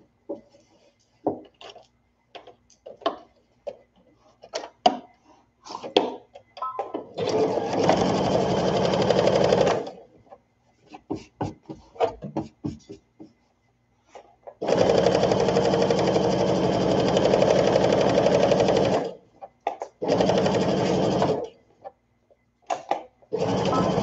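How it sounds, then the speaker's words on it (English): A sewing machine stitches a baby sunsuit in several runs of steady, rapid mechanical whirring, each lasting a few seconds. Quieter handling clicks and fabric movement fill the pauses between them. "So now we've sewn that."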